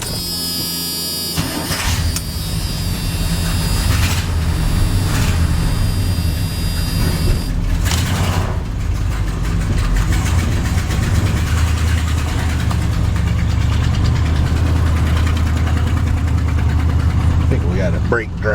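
A big-block V8 in a Chevrolet squarebody truck catches and settles into a loud, steady idle, with a sharp burst at the start and a continuous low rumble throughout.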